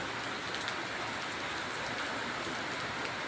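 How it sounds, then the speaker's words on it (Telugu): Steady rain falls outside a temple with a sheet-roofed front, a dense, even hiss of drops with no pauses or voices. "వర్షం ఇచ్చకోకుండా పడుతుంది"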